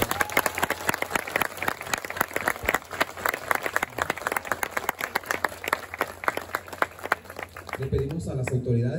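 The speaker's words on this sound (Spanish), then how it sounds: "Brindémosle un fuerte aplauso" Audience applause at a commemorative plaque unveiling in Cosalá, Sinaloa: many hands clapping in a brisk, uneven outdoor patter with scattered crowd voices, fading out as a voice speaks over it at the end.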